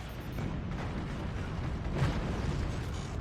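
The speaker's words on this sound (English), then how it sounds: "Here comes a warhead volley." Warhead missiles fired as a staggered volley in the video game Forts, heard as a dense, continuous roar of rumbling blasts and booms with a slight swell near the end.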